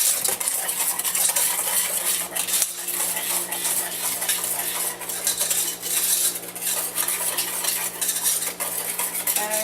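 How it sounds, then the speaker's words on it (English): A metal whisk clatters steadily against a bowl, blending sugar with all-purpose flour for a chocolate cake batter, with continuous scraping and clinking close up and no talking. "we're going to kind of whisk all this together"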